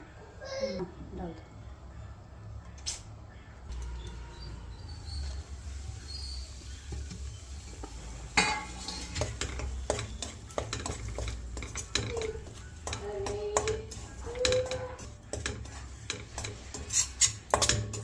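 Ground pearl millet is stirred and roasted in ghee in a pan, with scraping and clinking from the utensil against the pan over a low sizzle, while someone talks throughout.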